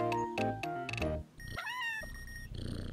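A cat meows several times in the video game Echo Generation, with short close cries spread across a few seconds over game music.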